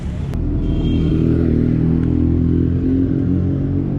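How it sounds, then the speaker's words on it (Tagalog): Motorbike traffic on a Ho Chi Minh City street at night, a continuous low engine rumble with revving and passing bikes filling the whole stretch, fairly loud and steady. "Tapos ang dami pang motor-motor."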